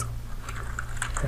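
Quick, light keystrokes on a computer keyboard, close and fairly quiet over a low steady hum, entering a terminal command to look up a MAC address.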